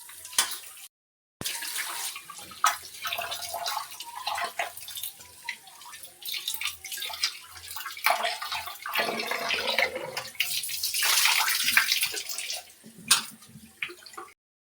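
Raw chicken for biryani rinsed by hand in water, with irregular splashing, sloshing and dripping close by throughout, including a louder burst of running water near the end and a brief gap of silence early on.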